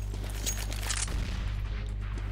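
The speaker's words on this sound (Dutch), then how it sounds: "iemand is lekker aan het schieten met de semi-automatische sniper" Semi-automatic sniper rifle fire in Counter-Strike: a few sharp, cracking shots cluster in the first second, then fade into a steady low background hum with no talking.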